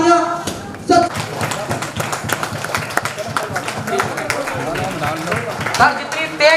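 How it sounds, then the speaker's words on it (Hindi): Loud, dense clapping from a seated audience at a company wellness event, steady throughout and mixed with voices and background sound. "जोरदार तालियां।"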